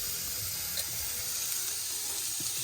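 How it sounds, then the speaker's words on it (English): Oil sizzling in a hot pan while cooking chilaquiles with al pastor topping at a camp teardrop trailer, a steady close hiss with faint crackles running throughout, no talking. "Gonna throw a little bit of oil on this."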